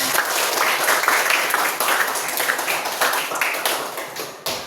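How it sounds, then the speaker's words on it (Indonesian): A crowd claps steadily, a dense patter of many hands that holds for several seconds and cuts off near the end. "Boleh tepuk tangan untuk"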